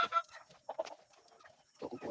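Soft clucking from chickens nearby, a few brief murmured calls scattered across a quiet moment.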